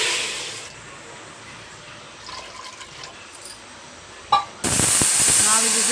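A pressure cooker, used while making jaggery pongal, bursts into a loud, sustained steam hiss with a high whistle after a few quiet seconds of faint kitchen noise.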